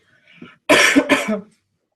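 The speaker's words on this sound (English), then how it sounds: "I apologize for coughing on you all night long" One loud, close double cough, preceded by a faint breathy throat sound, then silence.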